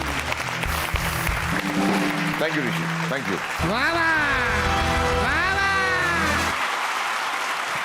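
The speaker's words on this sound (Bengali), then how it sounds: "আমাদের দুজন ডান্সারের জন্য একটু জোরে হাততালি হবে সবাই মিলে" A studio audience on a Bengali TV comedy show applauds two dancers, a steady, fairly loud round of clapping running throughout while a host's voice speaks over it.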